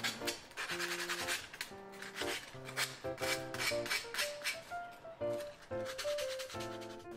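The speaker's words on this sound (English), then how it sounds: "Then I sanded off the fuzzies and the sharpness of the edges." Hand sanding the edges of small wooden intarsia pieces for a baby dragon, a steady close rubbing and rasping texture that runs continuously with quick back-and-forth strokes.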